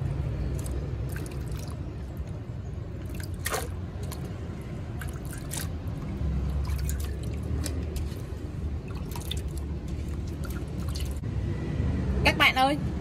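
Pickling shallots and onions are rinsed in water, giving close, irregular splashes, drips and sloshing with a louder burst of running water near the end.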